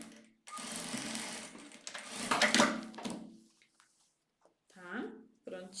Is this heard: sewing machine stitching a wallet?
yes